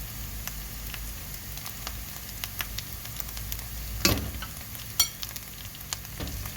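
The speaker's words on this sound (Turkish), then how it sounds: "Salçamızı iyice kavuralım." A spoonful of tomato paste sizzles and fries with onion in a pan for an Antakya chickpea-zucchini stew, a quiet steady crackle with a couple of sharper stirring clicks, no talking.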